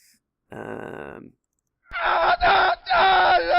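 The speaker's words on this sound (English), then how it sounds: "I have the screaming guy sound here" A screaming-man sound effect plays twice: first a sustained vocal wail, then after a short gap a louder, harsher screaming cry broken into bursts.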